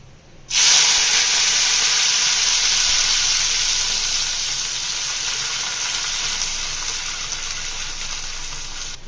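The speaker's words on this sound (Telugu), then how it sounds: "ఆయిల్ బాగా హీట్ ఎక్కిన తర్వాత కట్ చేసి పెట్టుకున్న వంకాయల్ని యాడ్ చేసుకుంటున్నాను" Cut brinjal pieces dropped into hot oil set off a sudden loud sizzle that holds steady and slowly eases over several seconds.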